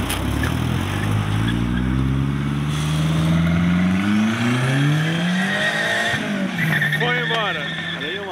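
A boxy Volkswagen Parati engine revs up loudly and close by, its pitch climbing steadily as it accelerates away at a car meet in Curitiba, Brazil. Faint voices can be heard underneath.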